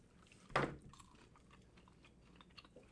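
Crunchy keto dark-chocolate-covered nuts get chewed close up, one sharp loud crunch followed by quieter, scattered chewing and small clicks.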